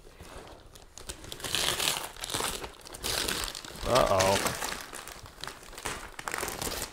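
Wrapping paper on a gift, a Lego Voltron set, crinkles and tears as it is pulled open by hand, with steady rustling throughout and a short exclamation partway through.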